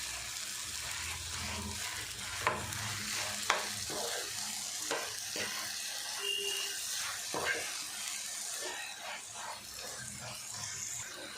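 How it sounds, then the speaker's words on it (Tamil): Ripe nendran banana halwa with jaggery being stirred in a pan, giving steady scraping and stirring strokes over a soft sizzling bed, with a few sharper knocks of the spoon against the pan. "நாட்டு சக்கரை சேர்த்துட்டு நல்லா கலந்து விட்டுருவோம்"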